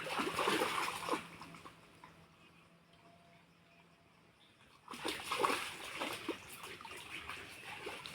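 A dog wading and walking through water in hot weather, with splashing bursts loud at the start and again after a quieter middle stretch, close by and without talk.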